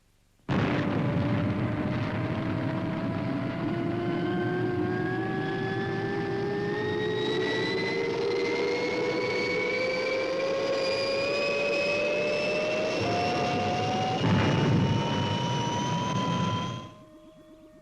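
Fireball XL5 spacecraft lifts off with a loud, sustained engine roar and steadily rising whine, building to a swell before cutting out, heard alone without voices.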